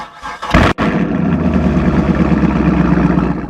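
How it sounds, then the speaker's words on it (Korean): A Chevrolet Camaro SS with a 453-horsepower V8 and an MBRP exhaust cranks briefly, then fires with a loud bark and settles into a deep, steady, rumbling idle close by. "자, 일단 시동음을 먼저 들어보도록 하겠습니다."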